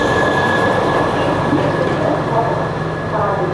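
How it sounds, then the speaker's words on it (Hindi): A local train departs a Colombo station in Sri Lanka, rumbling steadily close by, wheels and carriages rolling with a constant heavy roar and a faint high squeal over the top. "ये वाली लोकल ट्रेन यहाँ से रवाना हो गई।"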